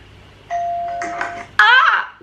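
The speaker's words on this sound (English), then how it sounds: "the doorbell's gone" A household doorbell rings with a sustained electronic tone followed by a brighter chime, loud and close indoors, then a person exclaims right after it.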